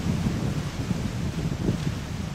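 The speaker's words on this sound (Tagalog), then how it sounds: "Tapos ang lakas ng hangin, oh." Strong wind buffets the microphone on Bulabog Beach in Boracay, a steady, loud, low roar with gusty rumbling throughout and no voices.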